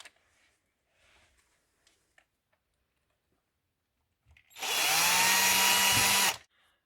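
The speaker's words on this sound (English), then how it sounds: "And we'll insert the screws almost on the side." A power drill drives screws into wall plugs while mounting a propane gas unit, a single loud whirring burst of about two seconds following a few quiet clicks and handling sounds.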